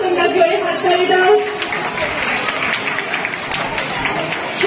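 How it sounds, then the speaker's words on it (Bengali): A school audience claps for a schoolgirl, producing a dense patter of applause mixed with crowd chatter, fairly loud and close, fading slightly after the first second while voices continue. "ওর জন্য তোমরা জোরে হাততালি দাও"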